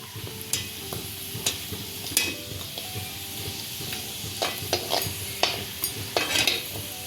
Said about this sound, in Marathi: आता ते तेलावर छान तळून घेते।